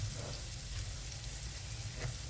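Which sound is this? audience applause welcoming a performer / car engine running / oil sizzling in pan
oil sizzling in pan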